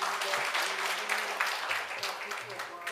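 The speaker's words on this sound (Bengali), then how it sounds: "আমরা আর একটি হাততালি দেব।" Dense audience applause fills a concert hall at a Bengali music night held by Udichi in New York in 2015. The clapping is loud and sustained throughout, with faint voices underneath.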